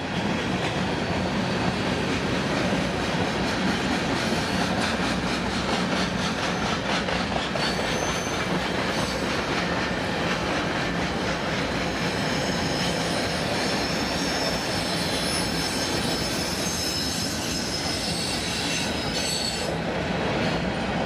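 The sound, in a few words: trains passing, wheels clacking and squealing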